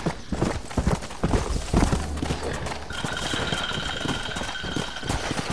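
Horse hooves clip-clopping in the Red Dead Redemption video game, a brisk, fairly loud rhythmic trot that continues under game music and ambient sound.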